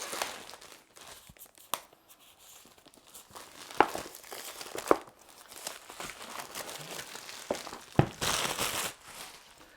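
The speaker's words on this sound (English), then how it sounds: "the first thing we notice, it comes with this plastic film on it." Plastic protective film crinkles and tears as it is peeled off the box of a Labists DQ20 13.3-inch portable monitor, with a series of close crackling rustles and a few sharper snaps.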